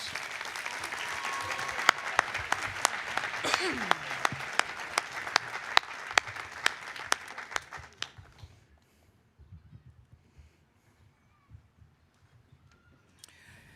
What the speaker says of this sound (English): And one last round of applause for all 4 awardees.